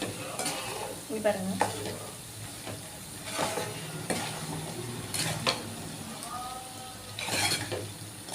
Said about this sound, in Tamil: இப்போ நம்ம நல்லா கிளறி விட்டுக்கலாம்.